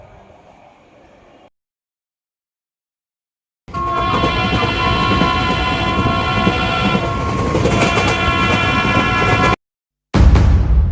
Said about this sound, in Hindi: और फिर कुछ ही देर में हमारा ट्रेन चल पड़ती है अपनी डेस्टिनेशन की ओर।